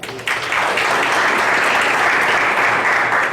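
Steady, dense audience applause fills a school staff gathering, rising quickly within the first half second and holding loud and even throughout, with no speech over it.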